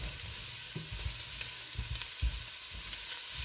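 Onions sautéing in a pan until translucent, with a soft steady sizzle and occasional low stirring knocks of a utensil against the pan, close and fairly quiet, no talking.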